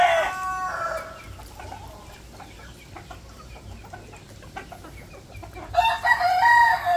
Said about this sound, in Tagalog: Yung mga inahin natin